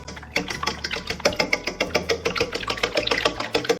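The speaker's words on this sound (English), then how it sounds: "We're going to give that a whisk." Eggs being whisked in a large bowl for a meatloaf mix, a steady rapid clatter of strokes running throughout at close range, fairly loud with no talk.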